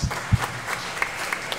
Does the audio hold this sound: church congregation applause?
yes